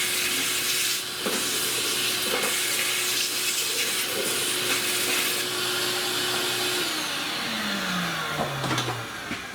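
Shop vacuum running steadily while cleaning out the trunk of a 1970 Buick Wildcat, a loud, constant whining hiss with a motor hum; near the end the motor pitch drops as it winds down.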